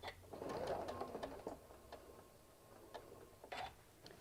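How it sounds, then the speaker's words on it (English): A sewing machine runs in short, quiet bursts, stitching a single line of black thread across a hummingbird fabric panel, with soft mechanical ticks and pauses between the runs. "Just doing a little stitch, just following it up."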